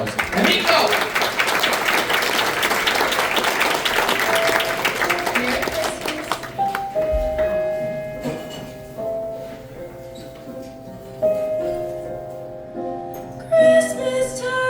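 An audience applauds a singer at a Charlie Brown Christmas late show. Dense clapping fills the first six seconds, then fades as instrumental music begins.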